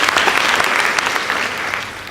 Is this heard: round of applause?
yes